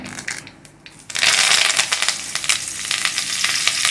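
Mustard seeds, cumin and curry leaves crackle and sizzle in hot oil: a brief quieter spell, then a loud, dense, continuous frying hiss with sharp pops, close up.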